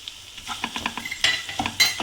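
Mutton sukka with crushed black pepper stirred and sautéed in a pan, close and moderately loud, with a steady sizzle under repeated scraping strokes of a spoon in an uneven rhythm.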